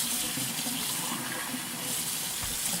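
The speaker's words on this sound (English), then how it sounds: "Get that all rinsed out." Tap water runs steadily into a sink while a raw turkey's cavity is rinsed out during brining prep, a continuous close splashing hiss with no talk.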